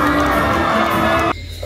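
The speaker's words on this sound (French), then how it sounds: "Miss Guadeloupe, Rai, Théophile sous vos applaudissements." A crowd at a Miss Guadeloupe pageant cheers and claps loudly, a dense roar of shouting and applause that cuts off abruptly near the end.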